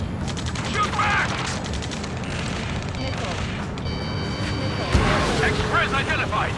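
Gunfire from a war video game, a busy stretch of shots and booms with one sharp louder crack near the end, overlapping with shouted game dialogue.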